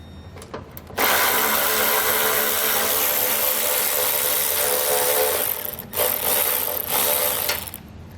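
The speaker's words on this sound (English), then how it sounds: "we need to take a 10mm socket and we're going to remove our radiator coil" A power tool, likely an impact or ratchet driving a 10mm socket, runs loud and continuous while loosening a radiator bolt on a 2014 Chevrolet Captiva, with a brief dip near the end before resuming.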